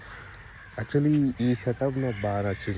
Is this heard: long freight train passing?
no